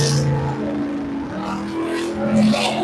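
A purple Chevrolet S10 and a Corvette Z06 launch side by side at a drag race. Engine drone with steady harmonic tones rises and shifts over a few seconds, heard from a distance amid crowd ambience.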